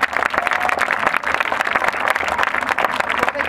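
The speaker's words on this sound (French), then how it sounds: "d'applaudir très fort" An audience at a synchronized swimming gala claps loudly and steadily, dense overlapping applause with a few voices mixed in.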